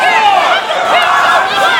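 A wrestling arena crowd at a Joey Ryan versus Adam Thornstowe singles match cheers and shouts loudly and steadily throughout, a dense wall of voices filling the room with no break.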